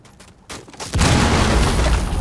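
A grenade going off in Rainbow Six Siege, a loud sudden blast that opens into a sustained roaring rumble after a quieter lead-in.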